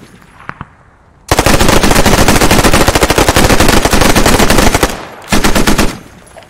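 Sustained machine gun fire from the World War II shooter game Post Scriptum: a long, loud, rapid burst of shots, then a short pause and a second shorter burst, close and dominating the mix.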